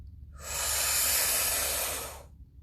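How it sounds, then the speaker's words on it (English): A single deep, steady inhale through the nose during Kundalini yoga breathing, rising smoothly and holding a broad airy hiss for about two seconds before fading, close and alone. "Again, deep inhale."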